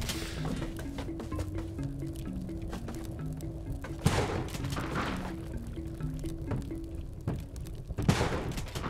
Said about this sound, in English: That's why he was exploding.